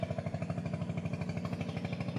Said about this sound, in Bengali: এই যে একটা ট্রলার যাইতেছে এটা দিয়ে মাছ আনে